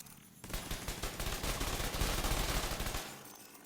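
Rapid turret gunfire in The Division 2, a dense sustained burst of automatic shots lasting about two and a half seconds, loud and close with no talk over it.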